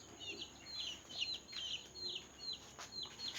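Young nursery chicks being given Newcastle disease vaccine drops chirp in quick, high, repeated peeps, about two per second, fairly soft and close against a steady background hiss.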